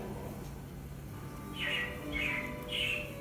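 Robins chirp three times in short bright bursts near the end, moderately close, over a low steady background hum.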